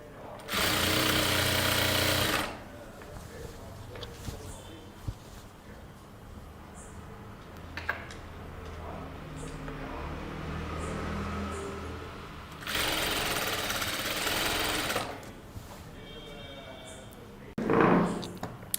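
A sewing machine stitching a boat neck kurta runs in two loud steady whirring bursts, one at the start and one later, with quieter handling sounds and a spoken voice in between.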